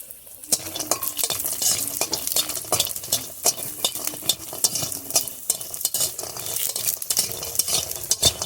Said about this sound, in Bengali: বড়িগুলো ভালো করে ভেজে নেবো